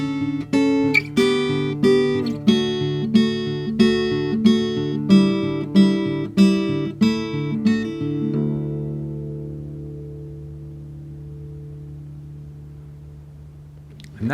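Guitar playing the closing part of the verse of a song, a run of strummed and picked chords in a steady rhythm for about eight seconds, then a final chord held and left to ring out and fade, with no voices.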